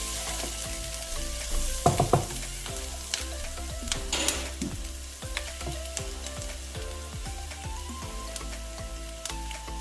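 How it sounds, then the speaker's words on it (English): Drink mixture with cayenne pepper being stirred in a vessel, with soft scraping and clinking touches and a faint sizzling hiss throughout, close and quiet. "I'm going to stir to mix properly"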